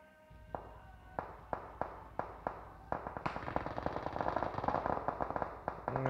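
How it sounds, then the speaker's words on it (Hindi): Rapid firecracker bursts cracking on all sides in a PUBG match, starting as sharp separate pops roughly every half second, then thickening into a dense, continuous crackling barrage that stays loud to the end. "यहाँ पटाखे फूटते हुए चारों तरफ से।"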